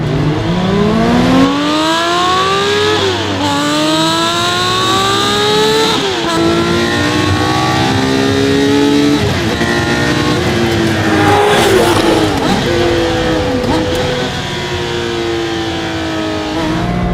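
A loud Singer-reimagined Porsche 911 engine revs hard through rising gears, the pitch climbing and dropping sharply between shifts, with a brief tire squeal.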